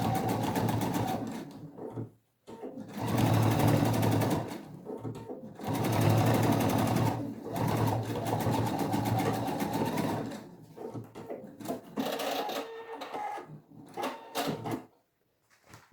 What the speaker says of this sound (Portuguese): eu vou passar uma costura aqui e fechar